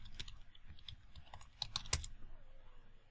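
Quick keystrokes click on a computer keyboard as a Linux command is typed, a short, close, fairly faint burst of uneven taps with one sharper key hit near the end.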